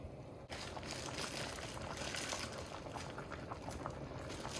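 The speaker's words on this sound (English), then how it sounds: "this is going to finish stewing down a little more" Chicken stewing in a pot, a steady dense bubbling and simmering that holds at an even level throughout, close and fairly quiet with no voices.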